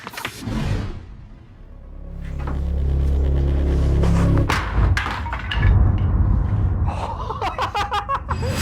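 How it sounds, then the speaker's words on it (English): A house door is kicked in, with heavy thuds and a cracking impact, followed by scuffing and clattering debris at close range, plus some breathy vocal sounds. "To get through this, I'm going to kick down the door."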